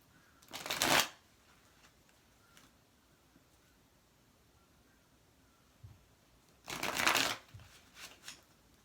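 Two quick bursts of tarot cards being shuffled, close and crisp, separated by a long quiet pause with faint room noise.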